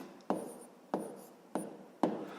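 A pen writes numbers for a fifth-grade decimal division problem, making four quiet, evenly spaced scratchy strokes on paper with no talk.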